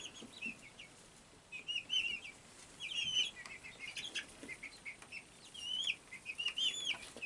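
Speckled Sussex baby chicks on their first day outdoors give soft, high peeps in scattered bursts over a quiet background, some fairly near and others faint.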